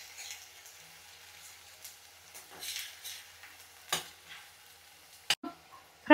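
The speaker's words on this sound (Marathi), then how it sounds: "आधी कांदा भाजून द्यायचा चांगला." Onion frying in oil in a pan for a dum aloo curry, a faint low sizzle with occasional soft stirring clicks and a few sharper utensil knocks near the end.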